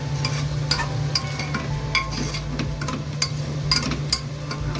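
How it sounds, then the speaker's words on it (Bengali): Steady sizzling of chicken frying in a pan with beetroot, capsicum and cauliflower, with occasional sharp clicks of a utensil stirring, continuous and close with no voices. "চিকেনটাকেও এখন দিয়ে দেবো, তাহলে একটু ভাজা ভাজা হয়ে যাবে তার সঙ্গে।"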